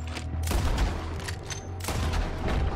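Gunfire in Red Dead Redemption 2: two sharp, booming shots land about a second apart, each trailing off in a noisy rumble beneath a steady low game background.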